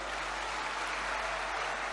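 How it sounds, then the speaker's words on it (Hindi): Crowd applause at a political rally for a foundation-stone ceremony in Sagar, Madhya Pradesh: dense, sustained clapping from a large audience with a low hum underneath, steady throughout. "मैं मोदी जी को हृदय से धन्यवाद देता हूं और आप भी तालियां बजा के अभिनंदन करें।"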